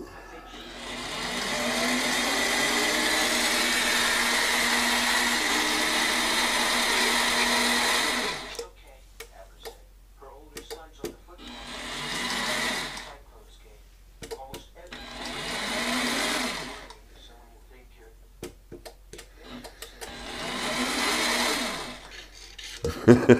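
A mini lathe whines in a long steady run, then starts and stops in several shorter bursts with quiet gaps, the motor pitch sweeping as it spins up and down; voices are not evident.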